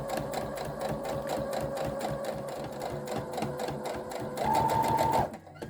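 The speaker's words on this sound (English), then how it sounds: "you're sewing a line of stitching along the facing that's sandwiching all of the seam allowance and the facing together." Sewing machine running a line of understitching along a fabric facing through the seam allowance, a steady rhythmic mechanical chatter throughout, briefly rising in pitch and loudness near the end before cutting off, with no talk.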